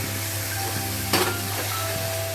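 Salted, turmeric-coated chicken pieces hitting hot oil and browned masala, giving a steady close sizzle and hiss with a brief louder burst of frying midway.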